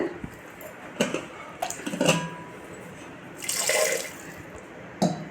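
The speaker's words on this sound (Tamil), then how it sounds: "ஒரு கால் லிட்டர் போல் தண்ணி சேர்த்துக்கோங்க" Water splashes and pours in short bursts into a metal pressure cooker, with clanks of the pot between them and a longer gush near the end.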